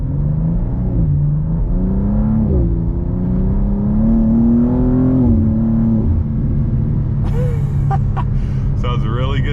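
BMW M2 G87 with a MAD single midpipe and exhaust valves fully open, revving hard under acceleration with a loud, rising engine drone and shift changes, heard from inside the car.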